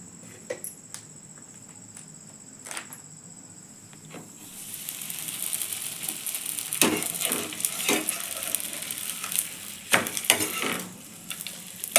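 A chapati frying in ghee in a pan brings on a steady, bright sizzle about halfway through, replacing a quieter start and broken by scraping clicks and stirring, close by with no talk.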